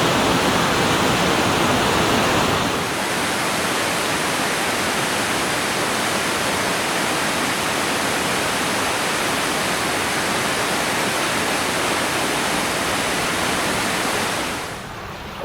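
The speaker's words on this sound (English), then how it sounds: "The only real waterfall in lower Michigan." Ocqueoc Falls, a small waterfall of about five feet in lower Michigan, roars as steady, dense rushing water, loud and close throughout, easing off briefly at the very end.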